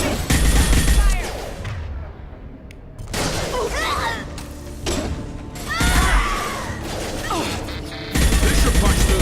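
Gunfire erupts in a firefight in the video game Mass Effect 2 on Illium, with sharp bursts, crashes and impacts layered over battle noise and music, loudest in clusters near the start, middle and end.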